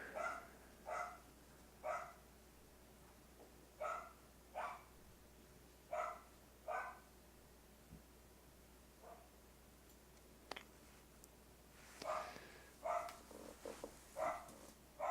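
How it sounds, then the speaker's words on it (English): Repeated dog barks, several dogs, sound at moderate distance in a quiet room, coming in short bursts of one or two barks at a time and roughly evenly spaced across the stretch, with a thicker cluster of barking toward the end. "I don't know what they're barking at now."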